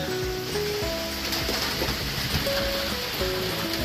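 Steady rain falls on a Tuesday morning around a home garden, a dense, even hiss of drops close by, with faint tonal chimes or birdsong threaded through and no talking.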